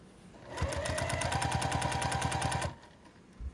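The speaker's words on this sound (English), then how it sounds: "top stitch right at the edge of the lining, and then do this all the way around" A sewing machine top stitches along the edge of a fabric basket lining, a steady rapid run of needle strokes lasting about two seconds, close and loud, then stopping with a soft click afterward.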